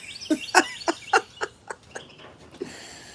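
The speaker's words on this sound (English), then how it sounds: "this family of birds are probably eating my peach right now" A family of birds, probably turkeys, raiding a peach tree gives a series of about ten short, sharp calls and gobbles close by, fading toward the end.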